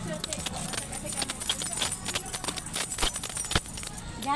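Keys jangle in a busy, cluttered scene, with repeated metallic rattles and clinks running through the whole stretch under a constant wash of background noise and voices.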